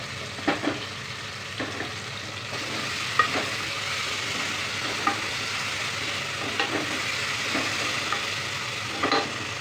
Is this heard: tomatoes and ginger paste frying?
yes